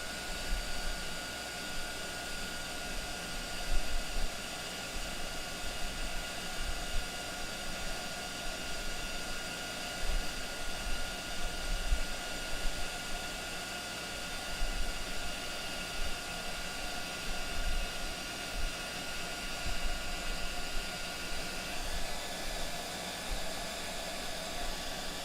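A heat embossing tool blows hot air steadily and close for the whole stretch while metallic embossing powder is melted for a Stampin' Up card, a continuous even whoosh with no talking.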